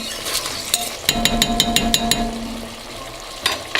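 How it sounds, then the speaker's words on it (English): Lamb simmering in a pot for Uzbek plov is stirred, giving a run of quick scraping, clinking strokes in the middle of the clip over a soft background bubble, with no talking. "After meat's been simmering for 5 minutes, I usually like to mix it in."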